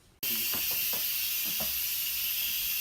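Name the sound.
steam releasing from an Instant Pot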